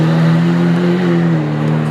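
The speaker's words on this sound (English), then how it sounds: "2015 Lamborghini Aventador Roadster." A 2015 Lamborghini Aventador Roadster with a full IP exhaust system and cat bypass revving, a loud, steady, close engine drone with slight pitch shifts over two seconds.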